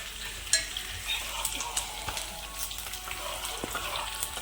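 Curry leaves and dried red chillies frying in oil for mango chutney, a moderate, steady sizzle close by with occasional light stirring clinks and crackles.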